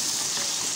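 Boiled mutton going into a hot frying pan for Chettinad mutton pepper gravy gives a steady, close, broadband sizzle that holds evenly throughout without any talking.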